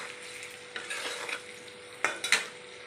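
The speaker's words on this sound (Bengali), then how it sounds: "হালকা সব ভাজা হয়ে গেছে ক্যাপসিকাম, পেঁয়াজ" Capsicum, onion and green chillies frying in a pan for chilli chicken, with a soft, low sizzle and a few sharp stirring scrapes and clinks near the end. No voices.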